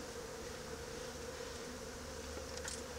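Honey bees fan inside a hive built in old railroad ties, making a soft, steady buzzing hum at a low level with a few brief closer flybys.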